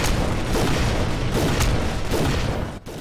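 Continuous gunfire in the Goldeneye Source multiplayer shooter, dense overlapping shots and booms, loud and close throughout with a brief dip near the end.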